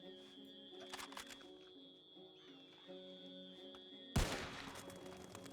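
A single sharp gunshot rings out in the WildRP video game during a hunt. It cracks suddenly and loudly near the end, after a quiet stretch of ambient sound with a steady hum.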